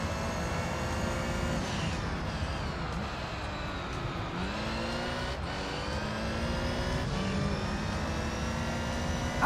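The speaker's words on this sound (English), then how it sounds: "I always like hearing the cars going by on the opposite direction of the track." Racing cars roar past one after another in Gran Turismo 3, engines droning and shifting pitch as they go by on the opposite side of the track, loud and continuous.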